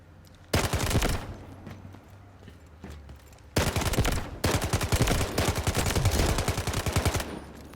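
MK47 rifle in the Delta Force shooter game firing loud sustained automatic bursts: a short burst, a pause, then longer rapid strings of shots, close and with no talk.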